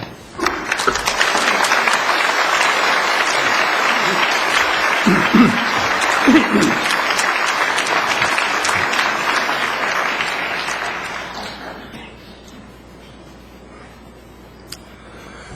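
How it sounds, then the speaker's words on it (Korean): Warm applause from a church congregation at a Korean Presbyterian church in Torrance, welcoming a pastor to the stage. Dense clapping runs for about ten seconds, then tapers off into a quiet, open room. "여러분 큰 박수로 환영해 주시기 바랍니다"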